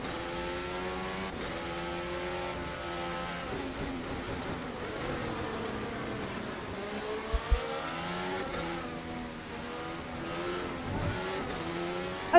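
Race car engine sound from a Formula 1 video game set at the 2026 Australian Grand Prix, a continuous loud harmonic engine whine rising and falling through gear changes, with brief tyre and contact noises and no talk.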